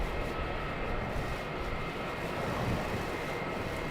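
An aircraft taxis at Melbourne Airport at night, heard as a steady, moderately distant engine rumble and whine that holds level with no break.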